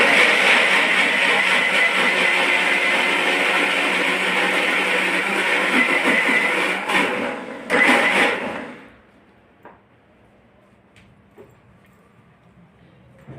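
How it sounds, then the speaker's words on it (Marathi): An electric mixer grinder grinds soaked wheat to a fine paste for kurdai, a loud steady whirring motor that runs for about nine seconds before cutting off, leaving near silence with a few faint knocks. "मिक्सरवर बारीक"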